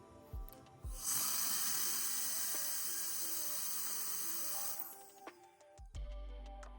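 A blower forces air through the nozzle of a hot lather machine, clearing stuck debris in a loud, steady, close hiss lasting several seconds before cutting off, with clicks and handling noises around it.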